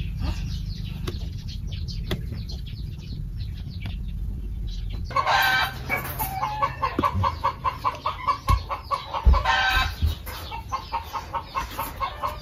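Chickens cluck repeatedly in a rhythmic series, fairly close, with a brief flutter of wings and a distant crow amid farmyard noise.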